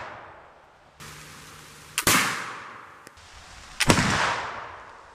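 Two sharp flintlock rifle shots fired outdoors in the rain, each a loud crack with a long decaying boom, spaced about two seconds apart over a steady hiss of rainfall.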